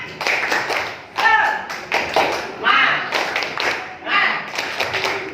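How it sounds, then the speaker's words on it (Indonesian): Classroom group doing a rhythmic spirit clap, several short bursts of clapping in a repeated pattern, each burst a cluster of quick claps separated by brief pauses, with voices chanting along between them. "marilah kita tepuk semangat"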